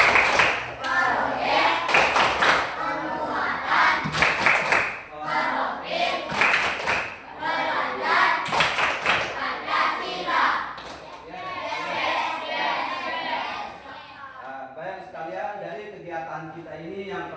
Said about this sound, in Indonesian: mari sama-sama kita tepuk kelima